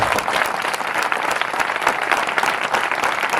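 Continuous applause rises from a church congregation, a thick, even wash of many hands clapping at once, fairly loud and sustained throughout.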